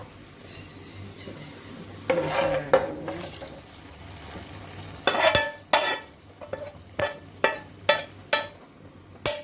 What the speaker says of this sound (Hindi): तड़का जो है वो रेडी हो चुका है। अब मैं दाल में इसको ऐड करूँगी।